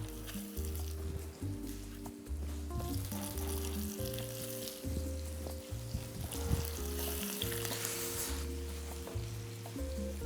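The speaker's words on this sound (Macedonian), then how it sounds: "Сега ќе додадеме масло и веднаш ќе ги ставам парчињата да се испржат од сите страни." Oxtail pieces dusted with flour fry in hot oil, giving a continuous close sizzle and crackle that runs the whole time under steady background music.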